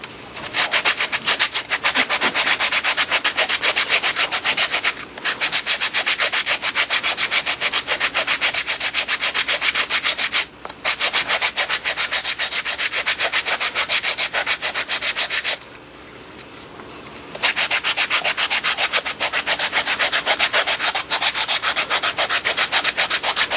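A wooden PSP adjustable handle is sanded with 80 grit sandpaper, producing steady, close, loud rasping strokes that run continuously with a few brief pauses and no talking.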